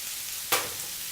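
Onions and garlic frying in a pan for a Puerto Rican dish give a sudden brief burst of sizzle as they hit the hot oil, then settle into a faint steady hiss.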